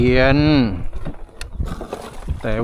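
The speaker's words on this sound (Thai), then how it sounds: "เรือหางยาวติดเครื่องครับ" A long-tail boat engine revs up close, its pitch rising and falling, drops to a rough sputter, then revs again.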